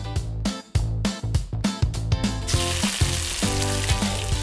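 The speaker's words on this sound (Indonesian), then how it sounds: "tumis isian tahu seperti wortel, buncis, dan juga jamur" Tofu filling of carrots, green beans and mushrooms stir-frying in a pan, a steady close sizzle under rhythmic background music that swells after a few seconds.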